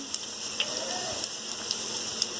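Cumin and mustard seeds with spices fry in hot oil for a brinjal curry, giving a steady hiss of sizzling with a few sharp pops from the seeds.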